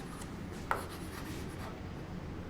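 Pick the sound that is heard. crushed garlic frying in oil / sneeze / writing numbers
writing numbers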